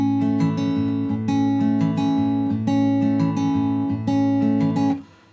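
Acoustic guitar in standard tuning fingerpicks the intro of a song, clear plucked notes in a gentle repeating pattern, played solo and close, ringing out and fading at the end.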